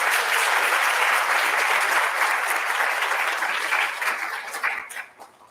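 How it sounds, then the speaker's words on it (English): An audience at the Morehouse School of Medicine graduate medical education graduation applauds the 2022 graduating class, a thick, loud burst of many hands clapping that holds, then thins and fades away near the end. "Please, a round of applause to the class"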